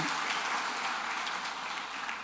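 A church congregation applauds during an evening worship service, a steady, dense wash of clapping from many hands that fills the room evenly throughout, with no voices on top.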